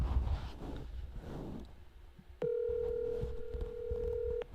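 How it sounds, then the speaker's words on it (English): After some faint rustling, a steady electronic ringback tone from an outgoing three-way phone call sounds for about two seconds, thin and continuous through a phone's speakerphone. "Can you guys hear the phone ringing?"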